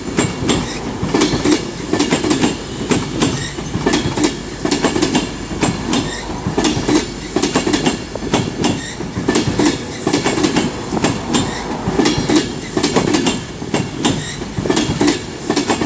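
A train rumbles loudly and steadily as it arrives at Crewe station, wheels clattering in a rapid clickety-clack rhythm over the rails, close by with no voices.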